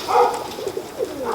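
Racing pigeons coo close by in a loft, soft throaty rolling calls repeating in a short burst, clear and unaccompanied by talk.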